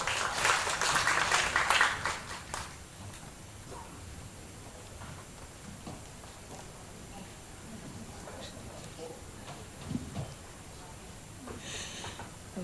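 Audience applause at an international forum in Kaohsiung, a loud burst of clapping from many hands in the first two seconds, fading out by about three seconds into a quiet room with faint rustles and murmurs.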